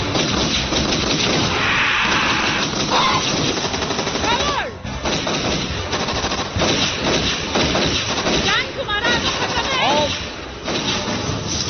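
Loud, sustained bursts of rapid gunfire, automatic weapons rattling continuously with occasional heavier thuds, dense and close throughout.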